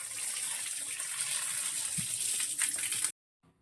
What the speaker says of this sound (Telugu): ఇదిగో కరివేపాకు శుభ్రం కడిగేసుకుంటాను